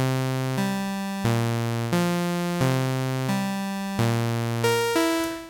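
A buzzy analog synthesizer lead plays a slow melody of held notes, each starting with a bright attack and sustaining, loud and alone with no other instruments.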